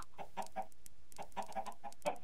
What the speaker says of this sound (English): Chicken, she laid the egg.